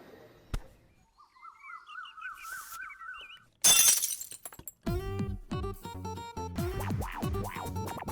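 A glass tumbler smashes with a sudden loud burst of shattering glass midway, set between a whistled bird-like tune before and lively music after.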